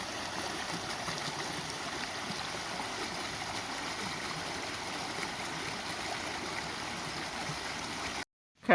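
Steady rushing of stream water flows continuously and evenly, a constant broadband wash with no voices, cutting off abruptly near the end.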